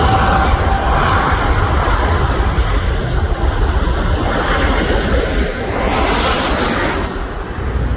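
A jet airliner, an All Nippon Airways 787, departs LAX with a loud, steady engine roar that fills the whole stretch, its broadband rumble shifting slightly as the plane passes.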